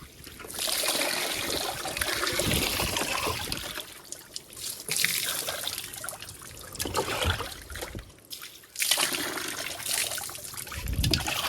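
A buffalo drinks from a water tub at a farm, giving repeated wet slurping and dribbling splashes in bursts with short pauses, fairly close and moderately loud, with no talking.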